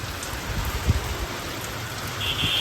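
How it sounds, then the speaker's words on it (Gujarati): Medium rain falls steadily in an outdoor rural spot, a constant hiss of drops with occasional louder patters, no voices. "મીડિયમ વરસાદ ચાલુ"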